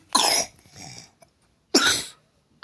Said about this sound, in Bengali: আর কাশির আওয়াজটা নিশ্চয়ই শুনতে পাচ্ছ